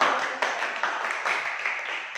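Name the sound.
classroom applause for a student group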